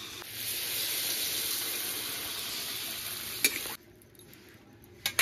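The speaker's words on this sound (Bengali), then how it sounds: "এবার জল ঢেলে দেবো" Frying pumpkin and potato hiss in a steady, bright sizzle that cuts off abruptly when water hits the pan, leaving a quieter bubbling with a few sharp clinks near the end.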